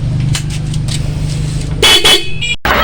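A car horn honks in a couple of short blasts over a steady idling engine rumble, close and loud.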